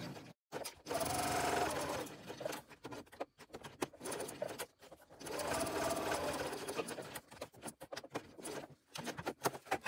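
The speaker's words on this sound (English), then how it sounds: "Just starting my back stitching in the short end of the connector using a Teflon foot" A sewing machine back stitching a tote's strap connector with a Teflon foot and long stitch length, running in steady whirring bursts with short pauses between, close and fairly loud.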